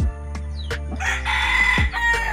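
A large rooster, offspring of a yellow-legged hen, crows once loudly and close by, a long drawn-out call rising and holding before breaking off.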